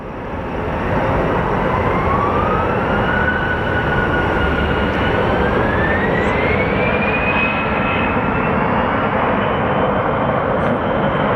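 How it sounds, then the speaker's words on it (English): A Delta Airbus A321 jet at Sky Harbor Airport gives off a loud, continuous broadband engine roar with a slowly rising whine, steady and close throughout and with no voices. "And here we have a Delta A321, most likely going to Minneapolis."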